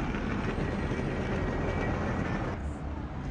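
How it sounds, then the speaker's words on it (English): Train station ambience fills the space with a constant broad rumble and hiss, a loud steady wash of machinery and crowd noise that eases slightly near the end. "Here we are at the train station"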